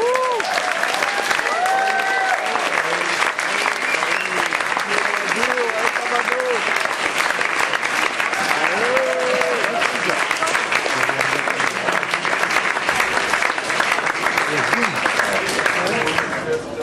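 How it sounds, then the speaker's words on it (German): Steady, dense audience applause at a concert in Mannheim welcoming a soul and groove band to the stage, continuing unbroken for many seconds with scattered voices and whoops mixed in. "großer Applaus"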